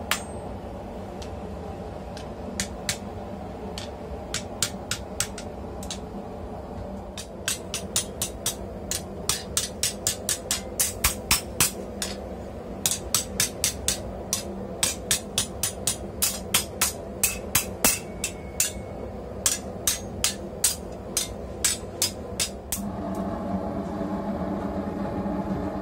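A steel piece is hammered flat-side to bend it at a blacksmith's forge with a gas burner roaring, sharp metallic ringing blows landing in irregular runs of strikes, close and loud, against the steady forge hiss.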